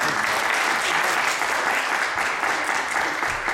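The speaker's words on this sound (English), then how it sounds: "So can we actually applaud all the young people?" Applause for young people rings out at a PCS mayor's ceremony in 2012. The hall is filled with steady, continuous clapping from many hands that holds at an even volume throughout, with no talking over it.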